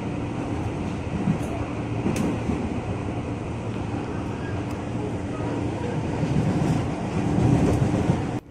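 A JR East 205 series KRL commuter train running toward Bogor, heard from inside the carriage as a steady low rumble and rail noise with a few faint clicks, swelling slightly near the end.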